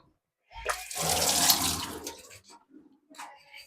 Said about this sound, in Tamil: பூண்டு அலசி எடுத்துகிட்டு வந்துடலாம்.